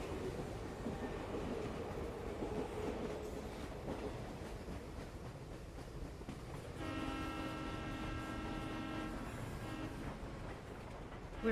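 Train ride in the video game Professor Layton and the Diabolical Box, a steady rumbling run with rhythmic rail clatter and a sustained whistle-like tone building in the latter half, fairly loud throughout.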